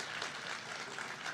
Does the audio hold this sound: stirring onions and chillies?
no